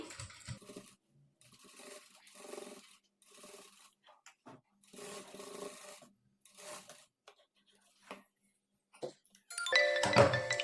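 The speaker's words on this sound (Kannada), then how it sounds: "ಈ ಕ್ಲಾತನ್ನು ಸ್ವಲ್ಪ ಈ ಥರ ತಿರುಗಿಸ್ಕೊಂಡು ಸ್ಟಿಚ್ ಮಾಡ್ಕೊಳ್ಳಿ" A sewing machine stitches blouse fabric in several short runs of rapid whirring separated by pauses, close and moderately loud, ending in a louder burst.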